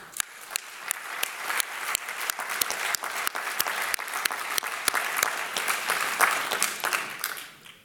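A gathering of French industry professionals applauds for Jérôme Ferrier, sustained clapping from a sizeable room with individual claps standing out sharply against the dense background, swelling slightly before easing off at the end.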